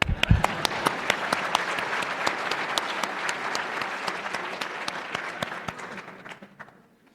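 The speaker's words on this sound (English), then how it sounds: "That deserves another applause." Sustained audience applause fills an induction ceremony hall, a dense steady wash of many hands clapping at close range for about seven seconds before tapering off at the end.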